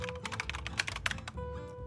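Rapid clicking keystrokes on a computer keyboard at a gaming PC, a quick irregular burst of close, light taps over a faint steady electronic hum, then a pause.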